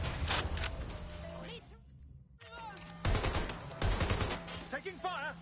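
Bursts of automatic gunfire in Watch Dogs Legion crack loudly in rapid volleys, with a brief lull before resuming, while voices shout over the shooting.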